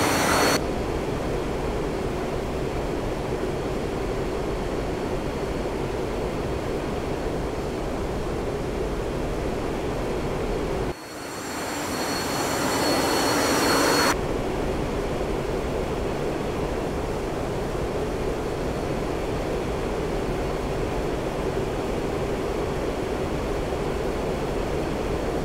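An A-4E Skyhawk jet in a flight simulator game gives a steady, loud engine roar throughout, with a brief dip and shift in tone partway through before the constant drone returns.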